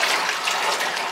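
Water pours steadily into a 60-liter tank at a dacha, a continuous hissing, splashing rush heard close up and unbroken throughout.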